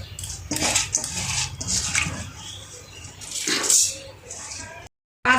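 Rice is swished and rinsed in water inside a rice cooker pot, with splashing, grain rattles and metallic clatter, while a person talks over parts of it before a brief cut to silence.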